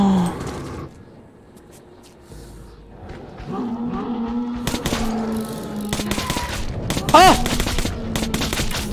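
A weapon in Metro 2033 Redux fires in sharp cracks and short bursts after a quiet stretch, growing busier toward the end, with a brief exclamation from a man over it.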